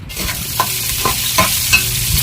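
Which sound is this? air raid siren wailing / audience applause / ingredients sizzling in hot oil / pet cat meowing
ingredients sizzling in hot oil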